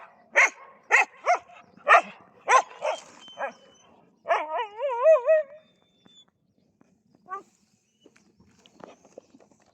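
A dog close by gives a quick series of about seven sharp barks, then a drawn-out wavering whine, followed by a few faint yips and quiet movement.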